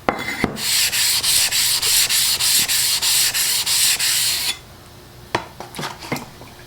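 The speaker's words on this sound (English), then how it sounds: "Always like to give my stones a little flattening before I put them back in the pond." A 1200 grit sharpening stone being flattened, heard as about nine loud, even back-and-forth rubbing strokes close up, followed by a few light clatters and knocks.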